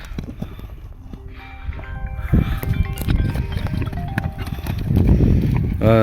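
A horse walking at Red Mayak near Özgön, Kyrgyzstan, its hooves clip-clopping in an uneven steady rhythm at close range, with handling noise and some background sound around it.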